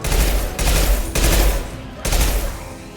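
Bursts of video game gunfire, with three loud, dense volleys separated by short breaks, close and heavy.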